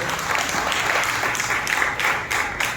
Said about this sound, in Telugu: బిగ్గరగా చప్పట్లు కొట్టి ప్రభువును భయపరచండి.